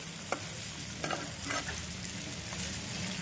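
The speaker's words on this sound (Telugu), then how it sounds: "వేసేసుకుని ఒకసారి కలిపేసుకుందామండి." Turmeric and dried chilies stir-frying in a pan for ridge gourd chutney, a soft continuous sizzle broken by a few light scrapes of a spoon against the pan.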